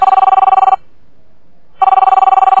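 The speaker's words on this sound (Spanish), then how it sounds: "siempre que me pongo a hacer el vídeo me tienen que llamar por teléfono" A telephone rings indoors with two loud electronic ring bursts, each made of rapid trilling pulses, split by about a second of silence.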